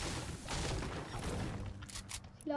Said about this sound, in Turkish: Silah sesleri geliyor ileride.